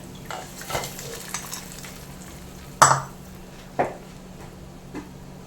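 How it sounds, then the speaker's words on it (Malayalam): Hot tempering poured into a pot of rasam gives two sharp sizzling bursts, then a short hiss and light scraping from stirring against a low, steady kitchen background. "ഇനി നമുക്ക് നമ്മുടെ രസത്തിനകത്തോട്ട് നമ്മുടെ താളിപ്പ് ചേർത്ത് കൊടുക്കാം"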